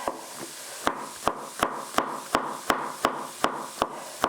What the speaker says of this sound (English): Now we need to just chop this finely, this garlic.